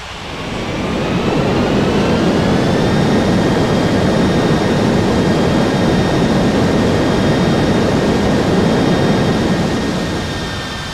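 An airliner rolls down the runway and takes off in a flight simulator game, its jet engines a loud, steady roar with a rising whine that holds for the whole stretch, no voices over it.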